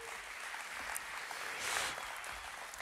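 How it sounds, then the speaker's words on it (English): Applause from a church congregation as a volunteer is called up, a soft, steady patter of clapping with a slight swell midway, heard at a moderate distance with no talk over it. "Can you guys give Jason a round of applause"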